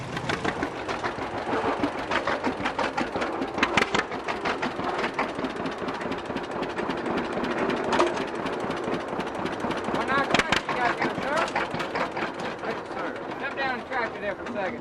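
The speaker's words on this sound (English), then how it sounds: "It's a 1953 Model 60, 50 horsepower." A 1953 John Deere Model 60 tractor, rated at 50 horsepower, runs steadily at an outdoor tractor show and pull. Its engine chugs continuously throughout while people talk nearby.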